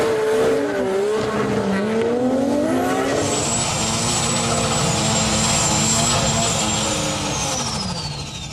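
A Nissan GT-R street drag car launches hard at a Japanese drag race, its loud engine howling and climbing through gears with a rising whine, tires chirping, continuous and close.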